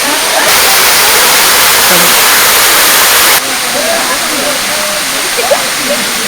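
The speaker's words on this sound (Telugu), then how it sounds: "కుడివైపున ఎత్తైన కొండ మీద నుంచి జలపాతం వేగంగా పడుతూ మనసును ఉరకలు వేయిస్తుంది" A waterfall at Siddaramappa Kolanu near Srisailam, plunging from a high hillside, roars as a loud, continuous rushing wash of water, softening partway through, with faint chirps in the background.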